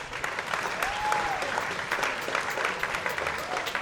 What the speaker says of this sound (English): we should all give ourselves a round of applause for that